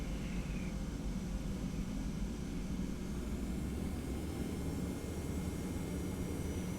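A Boeing 717 takes off in a flight simulator, its engines giving a steady, broadband roar that holds evenly throughout with no talk over it.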